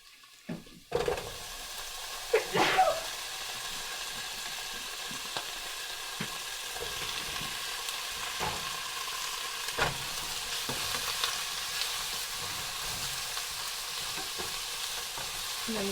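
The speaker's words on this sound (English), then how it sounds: "Okay, I'm gonna add the beef." Beef browning in rendang paste, frying with a steady sizzle while a spoon stirs and scrapes the pan in occasional sharp knocks, close and continuous with no talking.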